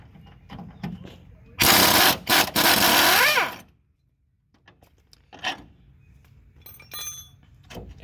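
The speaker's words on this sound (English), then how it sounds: "If you have air tools like myself, you can go ahead and just pop out the" Air impact tool rattling off a 16mm shock mount bolt on a 2008 Lincoln Mark LT, one loud sustained burst of hammering with short bursts around it, then quieter clicks and handling.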